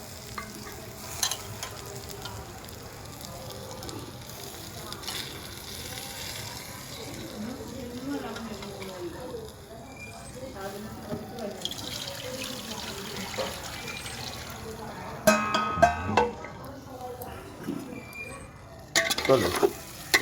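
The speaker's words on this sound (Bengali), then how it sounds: "মটরশুঁটি দিয়ে চালটাকে সুন্দর করে ভেজে নেব।" Raw rice being fried with fresh green peas and stirred in a pan, a soft steady sizzle with intermittent scraping and a few louder clattering bursts near the end, no speech.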